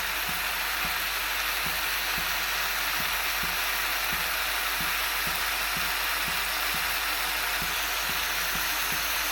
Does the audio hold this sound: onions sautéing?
yes